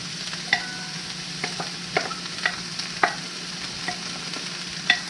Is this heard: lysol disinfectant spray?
no